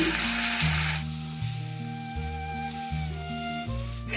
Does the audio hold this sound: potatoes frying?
yes